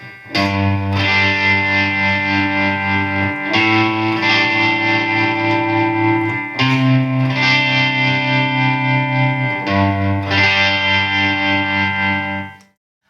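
Distorted electric guitar chords strummed in sustained blocks, changing every few seconds, thick with chorus and reverb, loud and steady until a clean stop.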